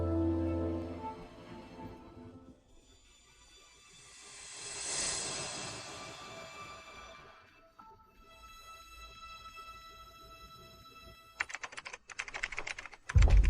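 Soft, quick clicking of a computer keyboard being tapped, faint and close, with a denser flurry of keystrokes toward the end.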